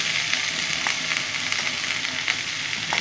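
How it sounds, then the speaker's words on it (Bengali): Chopped garlic fries in a pan with a steady, close hiss and crackle, and tiny pops scattered through it, with no talking. "ভালো করে দেখো রসুনগুলো ভাজা ভাজা করে নেব।"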